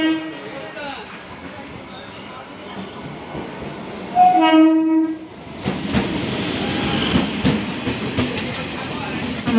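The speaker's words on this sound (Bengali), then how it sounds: "আমাদের ট্রেন চলে এসেছে।" A train pulls into a station, its loud horn blaring in a burst partway through, followed by heavy rumbling and clatter as the cars roll in amid platform bustle and people talking.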